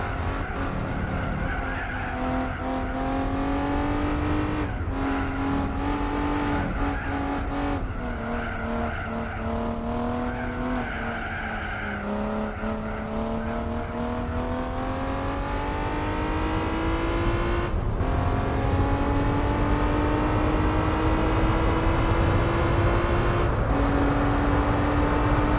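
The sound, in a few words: race car engine and tyres in Gran Turismo 4, video game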